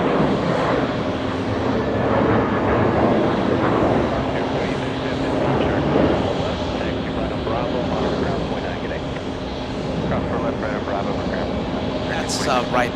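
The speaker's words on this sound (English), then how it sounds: "Jetblue 615 lifting off. That's an A321." A JetBlue Airbus A321 lifts off from JFK, its jet engines a sustained, loud broadband roar that swells and ebbs over several seconds, with a voice talking over it.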